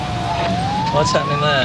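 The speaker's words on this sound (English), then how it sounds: "That's an ambulance you can hear coming." An approaching ambulance siren wails with a steadily rising tone over street noise, while people talk nearby.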